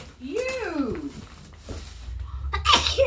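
A child or family member gives one short sneeze in a home during a Christmas gift opening, with a high voice and laughing and talking around it.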